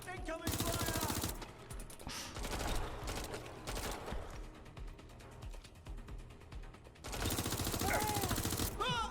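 Heavy bursts of automatic gunfire in the video game Watch Dogs Legion, loud and close. Two long volleys frame a stretch of rattling mechanical clatter and scattered shots.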